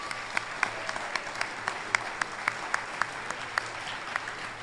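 A dinner audience at the Chicago Silver Circle Honors claps for the evening's honorees, a steady, moderately distant patter of many hands with sharper individual claps popping out, sustained throughout.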